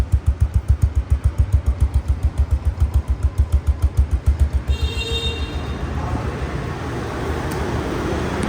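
A second-hand Bajaj Pulsar DD ABS motorcycle engine idles close by with a rapid, even thumping pulse that cuts off partway through, leaving quieter background noise.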